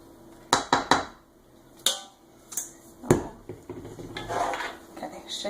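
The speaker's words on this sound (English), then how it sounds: "Okay, shake it around in the pan." Greased cake pan shaken with flour for a spice cake, a burst of sharp metal clatters and knocks followed by softer rattling and a dry shuffling swish, close by without speech.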